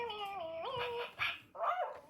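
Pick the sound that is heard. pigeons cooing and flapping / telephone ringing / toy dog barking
toy dog barking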